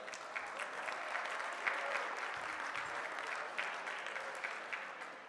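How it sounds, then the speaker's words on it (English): Audience applause at a Lincoln Luncheon political gathering, a steady sustained clapping from a large crowd across the whole stretch, fairly distant and even in level. "Just by applause, who was actually there at the convention?"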